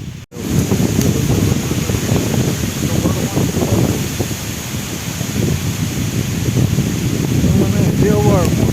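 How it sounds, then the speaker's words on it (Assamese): Strong wind roars steadily and loudly against the microphone on a mountain trek to Glow Lake in Arunachal Pradesh, with a faint voice briefly audible near the end. "একদম বতাহ ধুমুহা আহিব নিচিনা লাগিছে"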